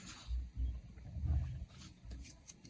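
A tiger roars in low, rumbling bursts, rising and falling several times, faint and somewhat distant, with no talking over it.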